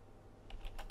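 A quick flurry of four or five faint keystrokes taps on a computer keyboard, close and quiet, without talk.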